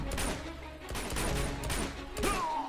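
Rapid bursts of Uncharted 2 gunfire in a jungle level, several sharp shots in quick succession over a steady background.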